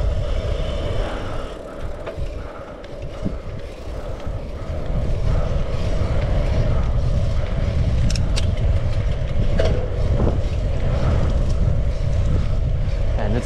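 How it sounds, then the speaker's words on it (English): Heavy wind buffeting the microphone while cycling through Hamburg, a loud continuous low rumble that strengthens midway and stays gusty to the end. "And it's windy."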